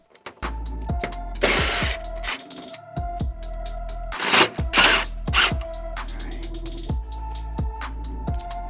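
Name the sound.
tightening grille bolts on Ford truck with ratchet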